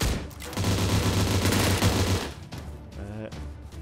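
Dense bursts of video game gunfire in Surviv.io, loud rapid rounds firing almost continuously before breaking into a few separate shots, with players talking faintly underneath.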